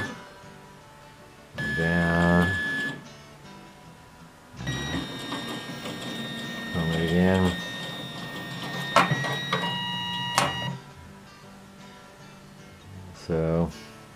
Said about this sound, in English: I can also manually run the motor up